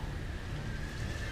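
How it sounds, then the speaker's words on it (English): A horse whinnies in a video game over a steady outdoor noise bed, the call held for about a second at moderate distance. "Hear that? It's a horse."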